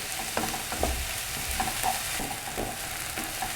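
Chopped onions sauté in a hot pan for a meatball recipe, a steady close sizzle with occasional stirring scrapes and spatula taps, no talk.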